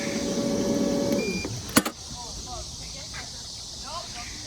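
Intex pool vacuum motor humming steadily, then winding down when switched off, followed by a click and quieter background with faint chirps.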